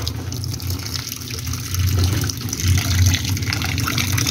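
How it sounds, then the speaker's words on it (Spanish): A washing machine loaded with dark clothes fills with water: a steady, close rush of flowing water that swells slightly louder partway through, with no one speaking. "vamos a esperar a que se llene de agua para ponerle el detergente"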